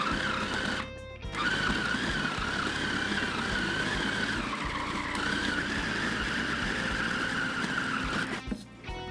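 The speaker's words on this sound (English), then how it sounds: "I'm going to let my food processor run for about 3 minutes" A food processor kneads pizza dough with a loud, steady motor whir and churning grind that runs almost without a break, dipping briefly near the start and again near the end.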